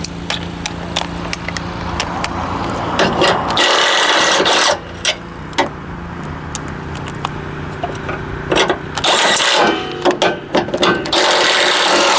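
Ratchet working 11mm radiator support bolts loose on a 2005 Jeep Liberty, close and fairly loud, with bursts of quick clicking and metallic scraping broken by short pauses; no talking.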